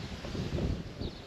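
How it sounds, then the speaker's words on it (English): Steady wind blows across a cut flower garden in May, a broad rushing roar buffeting the microphone close up with gusts swelling midway, no voices. "Ooh, it's got very windy"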